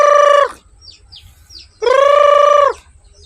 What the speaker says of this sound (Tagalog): Dito yung mga manok natin na iba, kakain din yan.